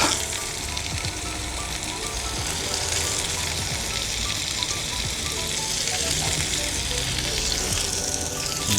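Carrots for pancit bihon sautéing in a hot pan, a loud, continuous sizzle and crackle with occasional scraping stirs.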